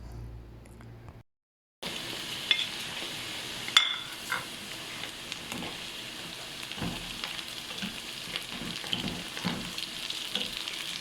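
Onion with ginger garlic paste fries in a pan with a steady close sizzle and occasional stirring clinks, after a brief silent gap at the start.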